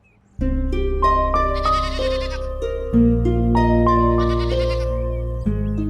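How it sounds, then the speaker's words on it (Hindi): A goat bleats loudly and close up in a long, wavering, tonal call of several pulses, heard alone with no talk over it. "बकरा लेकर आओ।"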